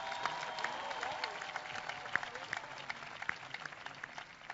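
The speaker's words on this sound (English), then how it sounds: "please let's give them a big round of applause." Audience applause at an indoor spiritual gathering, steady dense clapping spread across the room with a few sharper claps standing out, moderately loud and continuous throughout.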